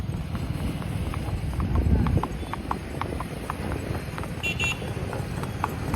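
A horse clip-clops steadily during a night ride in Surat, its hoofbeats evenly spaced and fairly close over a background rumble. People talk over the hooves.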